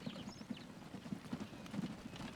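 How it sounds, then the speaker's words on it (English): A covered wagon drawn by two horses in the video game Transport Fever 2, set in 1853, gives steady, soft clip-clopping hoofbeats in an even rhythm under light ambient background sound. "Now this covered wagon pulled by 2 horses is top of the line technology for 1853."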